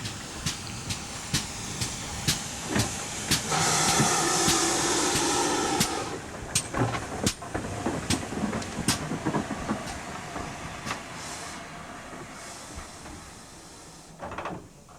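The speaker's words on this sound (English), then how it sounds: "So, by steam train up the River Dart to Buckfastleigh." A steam train runs up the River Dart valley toward Buckfastleigh in South West England, rumbling with rhythmic clacks of wheels over rail joints and a burst of hissing steam midway, no voices heard.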